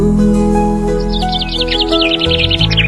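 A small bird's quick run of high chirps in a children's Islamic lullaby, a rapid twittering series entering midway over sustained tonal music.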